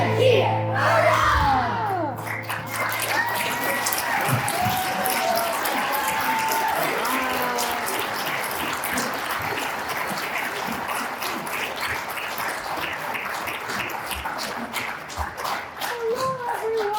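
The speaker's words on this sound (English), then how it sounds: "Give us a cheer. Give us a cheer. Hurrah!" An audience at an elementary school children's theater production of The Snow Queen cheers and applauds after a shouted call, loud sustained clapping and whooping from a full room, with children's voices at the start.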